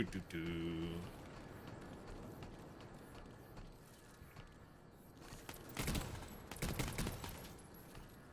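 Gunfire in the video game Endless Dungeon, a few sharp shots and bursts over busy game noise, with a voice talking over it.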